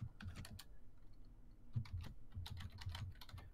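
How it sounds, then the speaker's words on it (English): Rapid, irregular keystrokes on a computer keyboard, close and clicky, in quick bursts with brief pauses. "Oh, he's typing."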